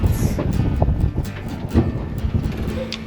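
Wind rushing steadily past the microphone on a sailboat tacking toward an island, a broad low buffeting roar with faint water sounds, continuous and fairly close, no talking.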